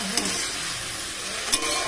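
Pumpkin greens with turmeric stirred in a hot pan, a continuous close sizzle with a couple of sharp utensil scrapes against the pan.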